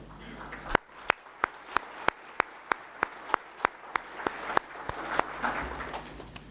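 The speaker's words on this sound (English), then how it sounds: "So please join me to give the new members applause." Audience applause for newly elected members at the ITU Council 2019 meeting comes as steady, evenly spaced claps, crisp and regular, fading slightly toward the end amid room murmur.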